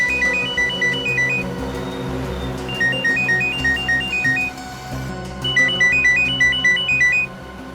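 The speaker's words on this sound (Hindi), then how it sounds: "फोन की घंटी बज रही है" A phone ringtone chirps in repeated bursts of short electronic tones over a steady background hum, pausing briefly between rings.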